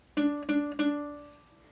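Three plucked ukulele notes in a steady, even rhythm, each ringing briefly, played close and alone with no voices.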